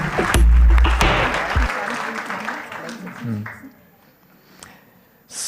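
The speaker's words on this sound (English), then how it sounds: "Maybe you can give a big round of applause to our host yesterday evening and also today." A conference audience applauds their host, with loud, dense clapping at the start that tapers off over a couple of seconds into quieter room noise and scattered sounds.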